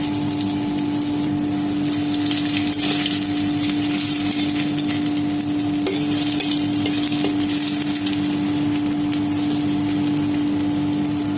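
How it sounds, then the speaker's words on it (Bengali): Pointed gourd (potol) pieces fry in hot oil previously used for frying fish, giving a continuous, dense sizzling crackle that holds steady and fairly loud throughout, with no speech. "মাছ ভাজার তেলেই পটলগুলোকে ভেজে নেব।"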